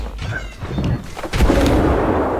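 A grenade goes off in an online shooter game: a heavy thud lands about two thirds of the way in, then a loud, sustained rumble continues to the end. It sits over dense background game noise.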